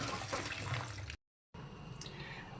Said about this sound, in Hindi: अब इसके ऊपर ठंडा पानी बहा देना है।